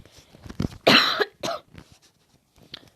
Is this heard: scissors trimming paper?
no